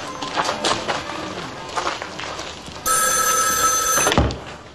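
A telephone bell rings loudly for over a second, a continuous bright trill that cuts off abruptly, following quieter movement and room sounds.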